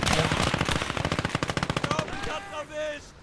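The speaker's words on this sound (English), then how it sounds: "That's an anti-tank rifle," Rapid gunfire from an anti-tank rifle and other weapons in a war video game, a dense loud burst of shots that thins into spaced reports and fades out.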